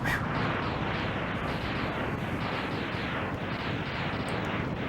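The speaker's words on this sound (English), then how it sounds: "It's an epic explosion." A sustained, rumbling explosion from the SNES game Mega Man X roars loud and continuous, dense crackling bursts pulsing throughout.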